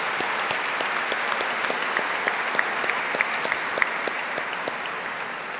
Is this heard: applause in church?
yes